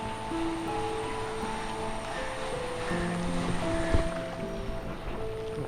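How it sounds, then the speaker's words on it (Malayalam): A continuous rushing wash of floodwater from a swollen river fills the scene, steady and broad, with faint tonal hums drifting underneath. "വെള്ളം പിന്നെയും കയറിക്കൊണ്ടിരിക്കുകയാണ്."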